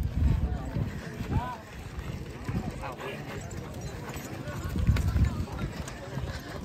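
Racing bulls hurry along in a bullock cart race, a rough drumming of hooves and rattling under loud, continuous talk and crowd noise, rising and falling as they pass.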